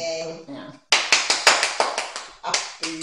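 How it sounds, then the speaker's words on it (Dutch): A person gives themselves a round of applause during a tic-tac-toe game: about eight sharp hand claps in quick, slightly uneven rhythm, close and fairly loud, with a voice heard just before them. "applaus hier voor mezelf"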